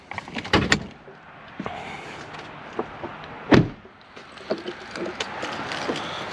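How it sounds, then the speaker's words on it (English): The hood of an L5P Duramax pickup truck is released and raised, giving a few sharp metallic clunks and thumps close by, with one louder bang partway through among quieter handling noises. "Pop the hood."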